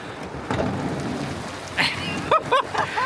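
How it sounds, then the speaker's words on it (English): Steady, dense heavy rain roars throughout, heard through a slightly open door, with a few sharp nearby knocks and squeaks near the end. "you can probably hear the rain"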